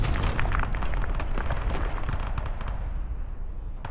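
Rocket explosions in a military roleplay video game during an assault on a compound, a dense burst of loud booms and crackling blasts that rumbles on and slowly fades.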